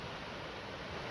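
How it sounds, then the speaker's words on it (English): A waterfall in a wooded valley on a former coal-mining site produces a steady, broad rushing roar, continuous and even, with no voices. "lovely waterfall"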